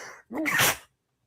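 A single sharp sneeze bursts out close by, with a short inhaled build-up and an explosive release, followed by silence.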